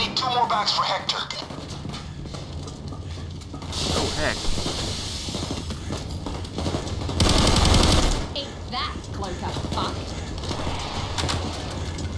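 Gunfire from a plasma rifle shotgun fires in the video game PayDay 2, loud blasts standing out against dense game noise, with one long sustained burst near the middle and someone talking over it.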